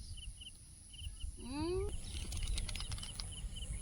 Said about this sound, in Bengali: পায়রাগুলো সব উড়ে গেল।